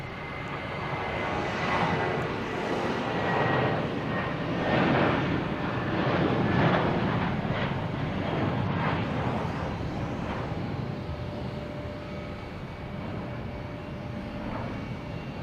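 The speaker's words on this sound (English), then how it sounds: "787 coming in here. We have a Japan Airlines." A Japan Airlines Boeing 787 jet airliner arriving at Boston Logan Airport produces a continuous engine roar that swells toward the middle and slowly eases, heard from a moderate distance without speech.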